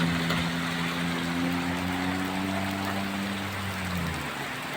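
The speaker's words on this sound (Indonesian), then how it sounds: "Waduh, gede lagi hujannya, bro." Heavy rain pouring onto a road on an uphill stretch, a steady dense hiss close by, with a low engine hum underneath that fades toward the end.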